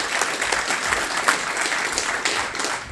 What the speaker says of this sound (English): give us a nice round of applause for